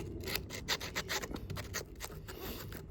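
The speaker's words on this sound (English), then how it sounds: "I'm going to use my sandpaper and just go through and lightly clean off" Sandpaper rubbing lightly over a pair of Felco pruning shears to clean the metal parts, a series of quick, close scratchy strokes in an uneven rhythm.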